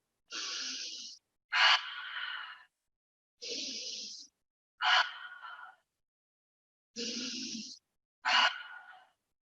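Three rounds of deep yoga breaths, each a long, airy inhale followed by a forceful, breathy exhale, close and clear with silent gaps between rounds.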